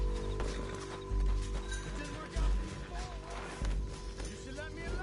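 A horse gallops in Red Dead Redemption 2, its heavy hoofbeats thudding in an uneven rhythm beneath game music, effects and voices.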